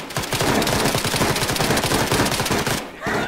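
Gunfire in the Arma 3 military video game: dense, rapid automatic bursts crackling continuously at close range, loud and relentless, with a brief break near the end.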